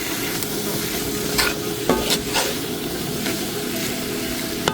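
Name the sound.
vegetables frying and stirred in a pan for veggie fajitas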